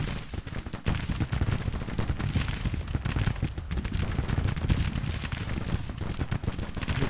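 Massed musket and cannon fire from brigades in a Grand Tactician Civil War battle of the 1861 campaign, a dense, continuous rattle of overlapping shots and booms sustained throughout with no talk.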